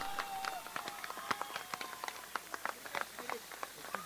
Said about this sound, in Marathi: टाळ्या सगळ्यांना विनंती आहे पहा